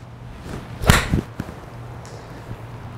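A single sharp whoosh and crisp strike of a golf club hitting a ball cuts through faint outdoor ambience, followed by a couple of softer taps.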